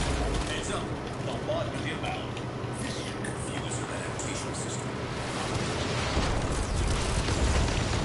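Explosive shots from the Brahma bow in the Warframe game, a loud, sustained roar of blasts and rumbling booms that swells near the end, with someone talking over it.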